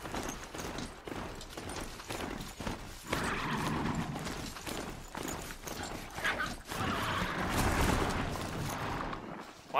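Horse hooves clip-clop rapidly in Horizon Zero Dawn as the mount gallops across snowy ground, a steady rhythmic pounding at moderate volume with no talk over it.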